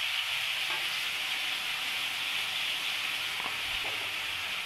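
Spice masala for potato dum fries in a pan with a constant, even sizzle and hiss, close up, broken only by a few faint stirring touches.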